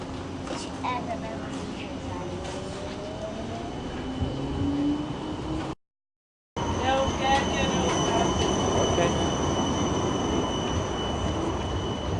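A Budapest tram arrives at Széll Kálmán tér, its wheels screeching and squealing loudly along the rails over a steady rumble, with a short break partway through; a voice speaks briefly near the start.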